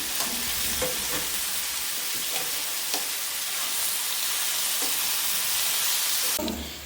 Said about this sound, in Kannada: ಎಣ್ಣೆಲಿ ಸ್ವಲ್ಪ ಕರಿಬೇವು ಇದನ್ನು ಹಾಕ್ಬಿಟ್ಟು ಚೆನ್ನಾಗಿ ಫ್ರೈ ಮಾಡ್ಕೊಬೇಕು